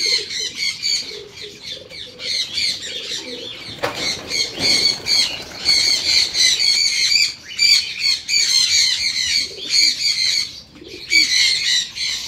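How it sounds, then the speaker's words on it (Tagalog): Pigeons in trees coo and squawk in a dense, continuous chorus, with a brief flutter of wings partway through. "Ay, mga kalapati niya, nandito sa mga puno."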